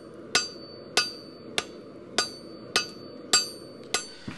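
Hammer blows on hot forge-welded metal made from Jeep wheel bearings, seven sharp ringing strikes at a steady rhythm of roughly one every half second, close and clear, with no talk.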